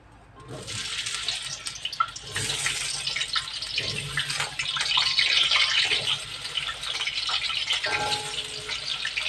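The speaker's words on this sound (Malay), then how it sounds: "Okey, kita goreng kentang." Potatoes fry in hot oil for tinned sardine sambal, giving a loud, continuous crackling sizzle that swells and stays busy throughout.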